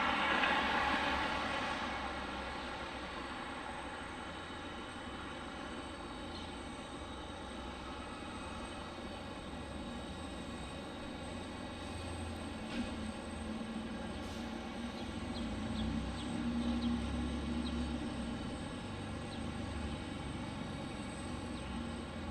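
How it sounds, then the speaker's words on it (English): A Delta airliner, a Boeing 737-900 or an Airbus A321, at Detroit Metro Wayne airport: a distant, steady jet engine roar that swells slightly near the end, heard alone without voices. "Delta 1619 from Tampa on a 737-900, and then it's Delta 1913 from San Juan, Puerto Rico on an Airbus A321."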